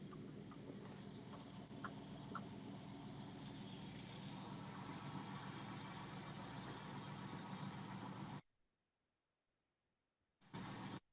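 An old DeSoto car engine idles steadily with a low, even rumble for several seconds, then cuts to near silence before briefly returning.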